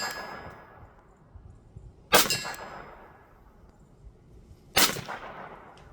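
A Sig P322 .22LR pistol fires two separate shots, each followed by the ringing clang of a struck steel target, with quiet pauses between them.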